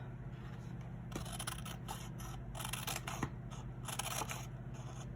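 Scissors snipping paper materials for a collage, a string of close, soft crisp cuts in short bursts over a low steady background hum.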